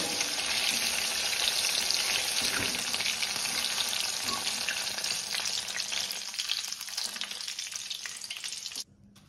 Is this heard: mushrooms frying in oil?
yes